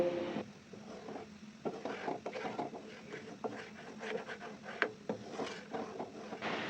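Quiet scraping and rubbing of a spoon stirring boiling milk in a pot for khirsha, irregular soft strokes up close with no talking.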